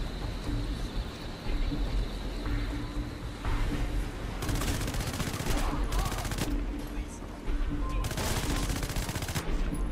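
Rapid gunfire rattles in the violent shooter game Hatred: repeated bursts of close, loud shots and automatic fire, with sharp clusters of blasts standing out against a constant noisy background.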